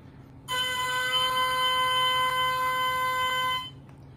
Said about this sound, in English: And the reed sounds like this,